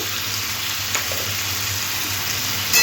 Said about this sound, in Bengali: খুব ভালো করে কুমড়োর সাথে মশলাগুলো মিশিয়ে নেব